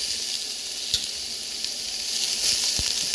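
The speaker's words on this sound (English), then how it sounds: "I'll just saute the veg and then I'll let them saute for about 10 minutes" Vegetables sauté in a pan for a basic vegetable soup, giving a loud, steady, close sizzle with a few soft stirring knocks.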